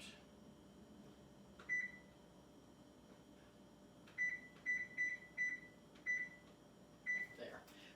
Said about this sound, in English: I'm gonna set the timer